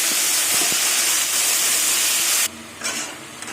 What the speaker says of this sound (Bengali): এবার জল দিয়ে দেবো যাতে মশলাটা পুড়ে না যায়